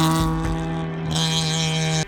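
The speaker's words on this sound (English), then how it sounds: "When that VTEC comes on strong, the acceleration is relentless and actually rather addictive." A supercharged Honda Integra Type R DC5 engine pulls hard under acceleration, a loud, steady harmonic drone that holds close and even for about two seconds before cutting off abruptly.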